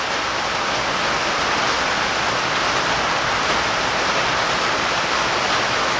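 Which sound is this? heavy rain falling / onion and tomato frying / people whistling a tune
heavy rain falling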